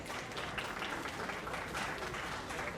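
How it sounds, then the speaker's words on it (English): A crowd at a fashion show claps for themselves, a dense, even wash of applause at moderate distance with faint voices underneath. "clap for yourself."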